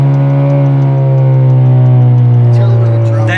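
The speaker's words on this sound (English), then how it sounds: "that exhaust, yeah, it's pretty loud" Honda Civic Si with a full 3-inch exhaust drones loudly and steadily at close range, rising slightly in pitch, with a brief voice at the end.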